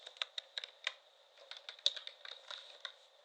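Rapid keystrokes on a computer keyboard, a quick, uneven patter of light clicks close by and quiet, with no voices.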